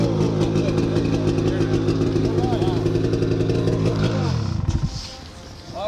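A motorcycle with a stock exhaust running at a steady idle, close and loud with an even mechanical rumble, then sputtering and cutting out near the end; voices talk in the background.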